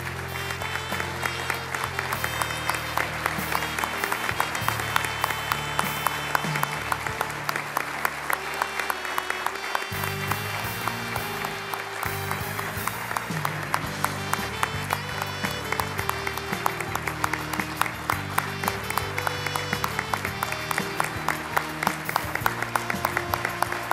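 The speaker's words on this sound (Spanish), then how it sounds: "Este es el merecido aplauso para" Sustained audience applause at an honorary doctorate ceremony, dense steady clapping from a large crowd that continues throughout without a break.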